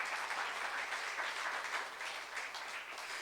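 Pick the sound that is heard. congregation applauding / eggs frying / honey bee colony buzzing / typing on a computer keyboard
congregation applauding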